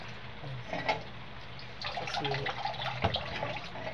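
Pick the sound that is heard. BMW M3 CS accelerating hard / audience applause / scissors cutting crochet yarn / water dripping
water dripping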